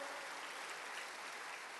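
A church congregation applauds together, a steady dense wash of clapping that holds evenly for a couple of seconds without pause.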